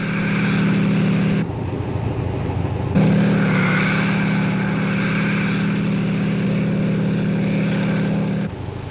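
Military army helicopters of the 1960s take off again, producing a loud, continuous rotor-and-turbine drone that holds steady close by, broken by a couple of abrupt cuts.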